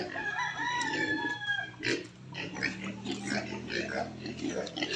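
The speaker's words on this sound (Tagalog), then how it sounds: "Ang dami rin manok." Chickens on a Philippine farm cluck and a rooster crows in drawn-out calls near the start, with pig-like grunts and other fowl noise mixed under background talk.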